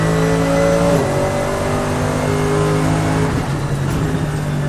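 A Mercedes-AMG GT3 race car engine at full power on the Portimao circuit, a loud, close, harmonic-rich roar climbing in pitch with brief dips at gear shifts, continuous and without talk.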